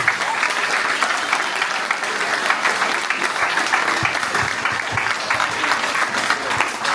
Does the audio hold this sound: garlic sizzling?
no